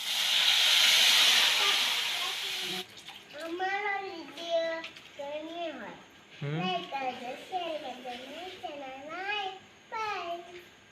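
A spice tempering hits hot oil with a loud, dense hiss for about three seconds, then cuts off. A child and an adult talk afterward.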